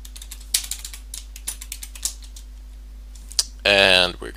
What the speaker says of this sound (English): we're gonna type in df space dash h